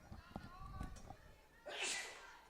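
A single close, breathy sneeze bursts out near the end, following a few soft thumps and faint movement in the background.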